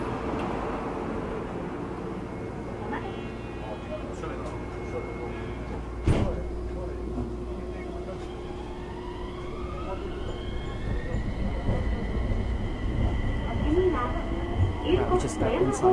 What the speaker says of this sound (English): I'm enjoying my ride here inside the tram.